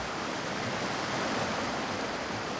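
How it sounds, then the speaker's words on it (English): Rain-swollen underground stream in a Chinese cave, churning as a foaming cataract: a loud, steady roar of rushing water, continuous and close, with no voices over it. "The rain has turned it into a foaming cataract."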